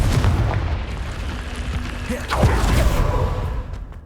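Confringo blast spell in the Hogwarts Legacy video game: a sharp booming burst near the middle with a rumbling tail, set against steady low game rumble and ambience, no talk.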